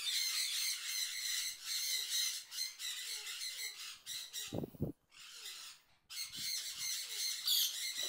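A parrot being handled in a cage lets out repeated harsh, loud squawks in close bursts, with brief gaps between outbursts and no talking.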